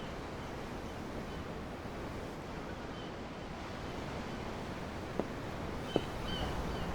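Ocean waves in Tales of Arise make a steady, soft wash of surf and wind at sea, continuous and even, with a couple of faint brief knocks.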